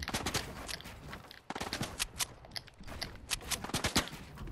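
Rapid bursts of automatic gunfire in a battle royale video game, loud sharp volleys in quick succession with a brief pause, then more rattling shots and faint footsteps.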